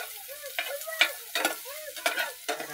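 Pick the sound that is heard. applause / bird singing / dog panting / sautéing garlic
sautéing garlic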